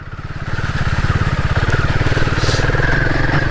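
Royal Enfield Himalayan 450 motorcycle ridden gingerly on road tyres along a muddy UK trail; a steady, loud single-cylinder engine thrum pulses rhythmically and close by throughout.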